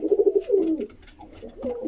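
A female pigeon coos several times in quick rhythmic pulses, close by, followed by a softer, lower throaty coo.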